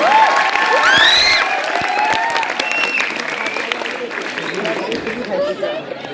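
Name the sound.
audience applause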